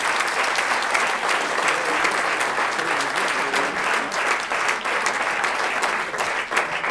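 Sustained, loud applause from an audience honoring the 2017 starter of the year at a local awards event, a thick continuous clatter of many hands that stays even for the whole stretch.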